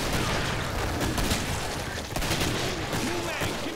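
Dense, continuous gunfire and booms in the Killing Floor video game, a constant chaotic wash of shots with no clear breaks, with voices talking over it.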